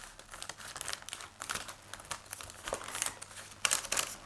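Scissors cutting around a cardboard cereal packet, giving repeated crinkling, crackling snips and rustles in an uneven rhythm, close and fairly quiet, with no voices.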